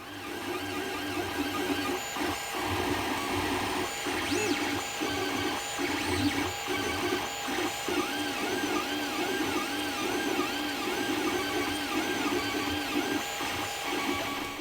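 A printer runs in a home workshop, a constant mechanical whir with rhythmic stepping and clicking movements that continue steadily, with no talking.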